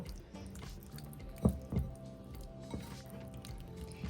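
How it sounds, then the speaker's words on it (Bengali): Hilsa fish being marinated by hand with mustard oil at home, giving soft, wet squishing and a few dripping splats, with two louder squelches in the middle, close and quiet, and no voices. "এবার মাছটাকে ভালো করে ম্যারিনেট করে নেব"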